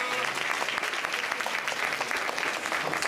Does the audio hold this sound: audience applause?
yes